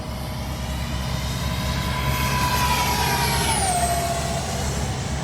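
A radio-controlled F-22 Raptor model with twin 40mm electric ducted fans flies past as a steady, loud turbine-like whine with a high tone that bends downward near the end, with no voices.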